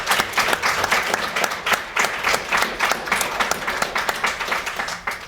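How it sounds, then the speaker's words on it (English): Audience applause at a Student Press Freedom Day event, a steady round of dense clapping that holds loud and even from start to finish, with no voices over it. "let's give everyone here a round of applause"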